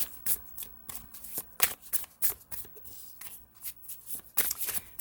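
Oracle and tarot cards being shuffled in the hands, a close run of soft riffling bursts and flutters that repeats steadily with slight pauses between riffles.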